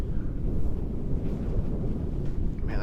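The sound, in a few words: wind blowing into the microphone on a disc golf course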